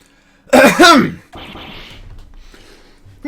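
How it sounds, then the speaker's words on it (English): A single loud, forceful throat clearing from a voice performer in a Phoenix Wright game playthrough, with a quieter breathy rasp and small mouth noises after it. "Maybe I should clear my throat?"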